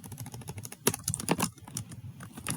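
Rapid, uneven clatter of keys on a computer keyboard, with bursts of close clicks and brief pauses, heard alone without talk.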